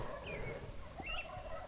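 A wild turkey gobbles twice from a small valley on public land in South Dakota, faint and distant over quiet early-morning ambient noise.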